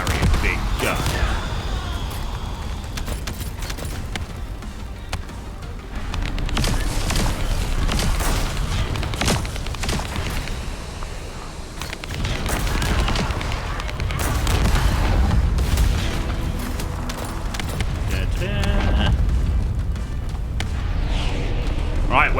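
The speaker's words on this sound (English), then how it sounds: "I've got a grenade launcher thing." Grenade launcher explosions and weapon fire in the video game The First Descendant, a continuous barrage of booms and bursts throughout, loud and layered, with someone talking over the action.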